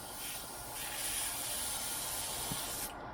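An airbrush sprays Candy 2.0 Deep Purple paint onto a walking bait lure at lowered pressure, giving a steady, close, airy hiss that runs almost the whole time before cutting off near the end.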